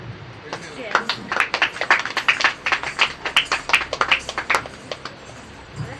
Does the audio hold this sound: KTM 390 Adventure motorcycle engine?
no